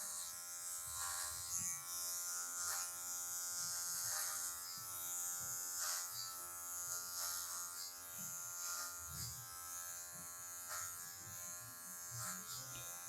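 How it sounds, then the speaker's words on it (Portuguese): Electric hair clippers fitted with a number 4 guard cutting long hair upward during a taper fade, buzzing steadily and close, with repeated brief passes through the hair. "vou pegar o pente 4 e vou passar para cima, removendo essas partes que estão maiores"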